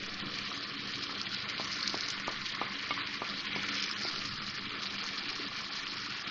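Spices and tomato paste being stirred and fried together for a paneer masala, a steady close sizzle with a run of light, regular spoon scrapes against the pan partway through.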